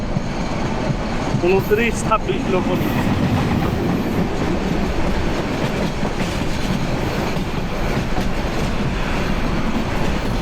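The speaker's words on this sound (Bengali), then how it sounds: "ট্রেন একটা ঢুকতেছে" Train pulling into a station during Bangladesh's 13th national parliamentary election, a steady rumbling rail roar with clattering wagons running throughout, heard close and loud under scattered talk from people nearby.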